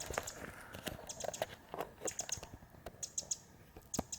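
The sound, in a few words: bird calling in the woods at Muir Woods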